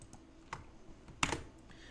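A name being typed on a computer keyboard: a few soft, scattered key clicks with one sharper burst of taps, heard up close in a quiet room.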